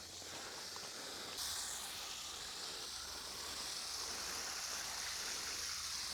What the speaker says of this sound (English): so I'll come in here and give it a good water